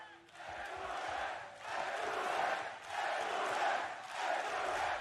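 Arena crowd at a Valorant esports grand final, Paper Rex against FPX, roaring and cheering in swelling waves, loud and dense with no clear voices standing out.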